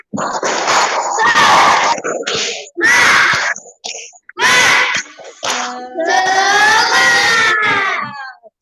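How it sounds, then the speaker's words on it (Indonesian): A fifth-grade elementary class performs a rhythmic spirit clap, with bursts of sharp hand claps mixed with loud, shouted children's chanting in short energetic phrases separated by brief pauses. "Yuk, mulai tepuk semangatnya."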